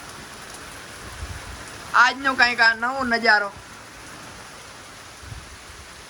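Heavy unseasonal rain pouring down steadily, a constant hiss of rain throughout with someone talking briefly over it in the middle.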